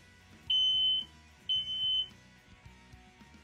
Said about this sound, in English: Remember to check your smoke alarms every month.